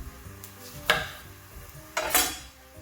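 Thyme dropped into butter in a pan while cooking bacon-wrapped shrimp, two short bursts of hissing sizzle and stirring clatter over a quiet background.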